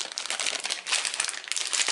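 A plastic packet holding raisins crinkles and rustles up close, in continuous crisp bursts of crackling for about two seconds, with no talking.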